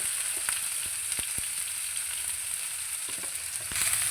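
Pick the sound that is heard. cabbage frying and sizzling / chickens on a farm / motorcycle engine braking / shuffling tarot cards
cabbage frying and sizzling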